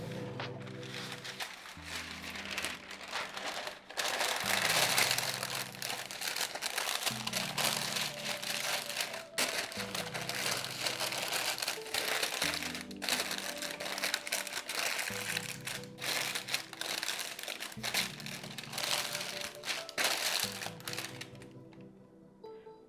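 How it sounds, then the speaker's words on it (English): Parchment paper crinkles and rustles as it lines the bottom of an 8x4 bread loaf pan. The sound runs close and fairly steady, with music playing underneath. "we're going to prep an 8x4 bread loaf pan by lining the bottom with parchment"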